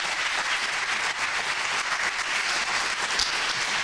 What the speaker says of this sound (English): Steli, round of applause, please. Round of applause.